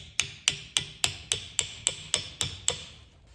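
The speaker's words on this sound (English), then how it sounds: "you can give it a little tap with a small hammer just to get it started" A small hammer taps the head of a vintage double-bit axe onto its wooden handle, ten crisp metallic strikes at an even, quick pace, close and clear with nothing else heard.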